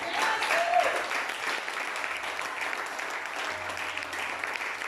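A church congregation applauding together, a dense, steady clatter of many hands filling the room for the full few seconds without a break.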